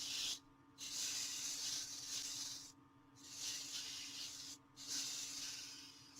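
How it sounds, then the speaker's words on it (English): Folded sandpaper rolled by hand between the grooves of a turned wooden Christmas tree ornament, probably spinning on a lathe, giving steady broadband rubbing hiss in three long passes broken by short pauses, close and moderately loud with a low motor hum beneath. "I fold the sandpaper in half. And what I do is I go in between the grooves like this and just roll it."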